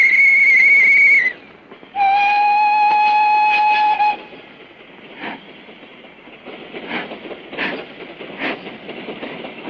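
Two loud, steady train whistle blasts, followed by rumbling rail noise with rhythmic clacks as a train rolls along.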